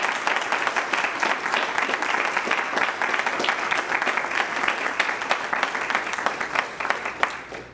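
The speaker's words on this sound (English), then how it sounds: "So just please give them all a round of applause." Audience applause at a school district board of directors meeting honoring state champion students, steady sustained clapping from a sizable crowd lasting the full stretch with no speech over it.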